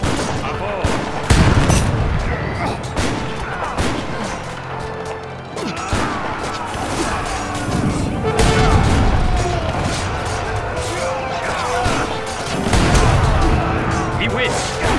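Cannon blasts and gunfire from a battle in the video game Age of Empires 3, with repeated booming impacts and crackling shots layered over a busy game soundtrack, while someone talks over the action.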